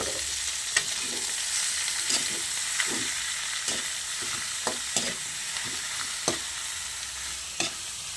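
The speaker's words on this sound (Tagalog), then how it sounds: "So habang ginigisa natin yung pinapata mga ka-reels" Pork for pinapaitan sizzles steadily in a hot pan, with a constant bright frying hiss and occasional soft thuds and scrapes of stirring, close and alone without any voices.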